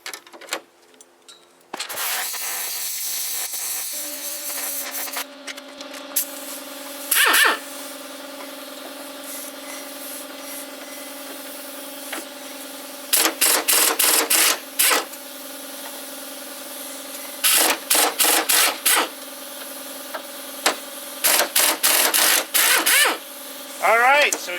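Impact wrench removing stuck Torx bolts from a Jeep Wrangler TJ door, sharp rattling bursts in short and longer volleys separated by quiet pauses, close and loud.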